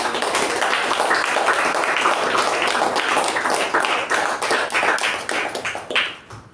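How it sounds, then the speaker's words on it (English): Club members at a meeting clap for the deputy MC in a brisk, dense burst of applause that stays full for several seconds, then thins out and stops. "I think we should have a huge round of applause for our deputy MC."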